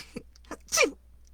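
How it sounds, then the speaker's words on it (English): A man's single sneeze in audiobook narration of The Graveyard Book: two soft intakes of breath, then one close, sharp burst that quickly dies away. "He sneezed."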